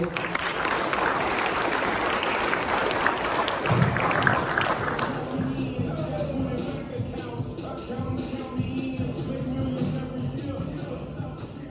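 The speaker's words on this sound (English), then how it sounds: "So let's clap it up for Jeremy." An audience at a winter camp speaking event claps for a speaker, dense sustained applause that fills the room, then thins to scattered claps and crowd murmur toward the end.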